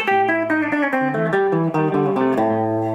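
Guitar plays a blues scale phrase spanning two positions, a flowing line of picked single notes rising and falling in quick succession, played alone at steady volume.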